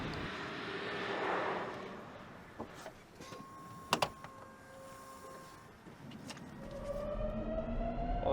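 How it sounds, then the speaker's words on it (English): The Lotus Evija all-electric hypercar gives off a faint electric motor whine: soft tonal humming with a few clicks, then a clearer pitched whine rising near the end. "You think of an EV as being completely silent, but from here it's not."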